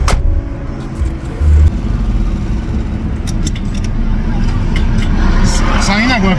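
A car with its seat removed drives off, its engine rumbling steadily and rising slightly, with a brief jangle of keys near the start and a voice talking over it.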